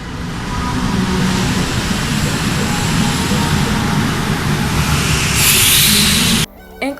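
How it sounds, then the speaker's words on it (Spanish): Subway train noise: a loud, continuous roaring rumble of a metro train at speed, swelling with a brighter hiss near the end before cutting off abruptly. "ruido del metro"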